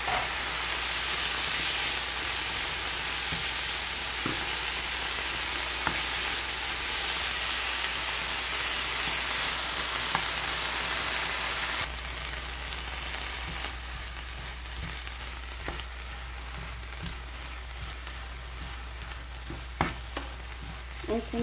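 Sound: onions frying and being stirred in a pan

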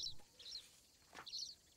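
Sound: bird calls in the wildlife video game Alba

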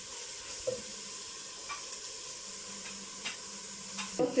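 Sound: stirring mushrooms and corn in a frying pan

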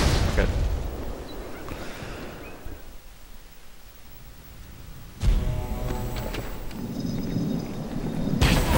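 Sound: grenade explosion in video game Halo 2

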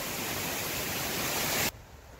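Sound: waterfall at Falling Springs, 45 ft roadside fall

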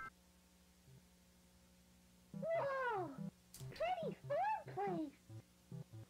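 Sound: cat meowing outside

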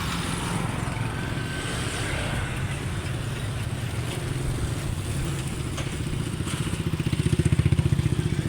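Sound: motorcycles passing by

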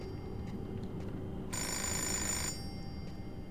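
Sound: telephone ringing in Fahrenheit Indigo Prophecy video game

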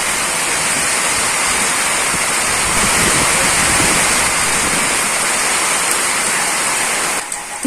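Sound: heavy continuous rain

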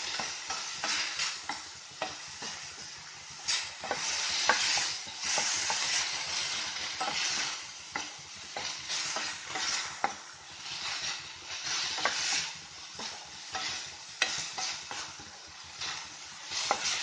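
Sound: sautéing tomatoes with onions in a pan

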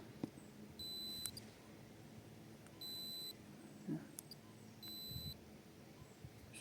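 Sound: soldering iron beeping on power-up

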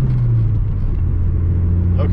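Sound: Chevy Beretta GTZ engine accelerating

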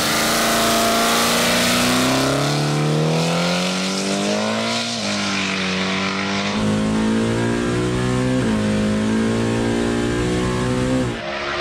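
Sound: Chevrolet Camaro race car engine revving

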